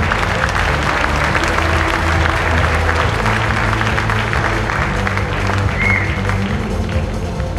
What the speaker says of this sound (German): Vielen Dank, ihr Applaus.